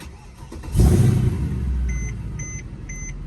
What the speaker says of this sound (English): let's go ahead and start this thing up